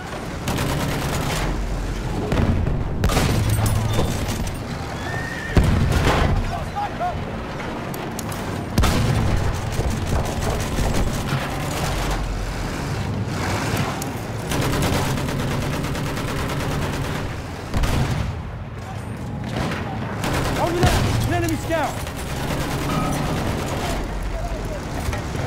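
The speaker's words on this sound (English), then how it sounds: "Look out! Machine gun!" Machine gun fire rattles through a Battlefield 1 hardcore match, with bursts of shots and distant booms over a constant din of battlefield noise and vehicle rumble.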